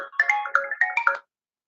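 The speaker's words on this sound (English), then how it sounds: "Uh-oh, Kim's on the phone." A phone ringtone plays a short bright melodic phrase of several quick chiming notes, loud and close, then cuts off into silence after about a second.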